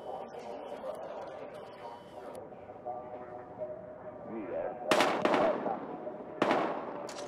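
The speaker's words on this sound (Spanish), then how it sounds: "Se oyen disparos." Gunfire in the Battlefield Hardline video game, two sharp broadband bursts late in the clip over a busy game soundscape with music and voices underneath.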